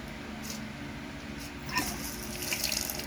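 Water fed from an overhead plastic drum tank runs steadily from a tap, a soft continuous hiss and splash with a faint brief whine partway through.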